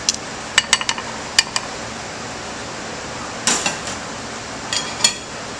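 A baked blue crab jalapeno dip dish is set down onto a platter, with a few light clinks and taps of ceramic, a soft scraping thump, and more clicks over a steady fan-like hum.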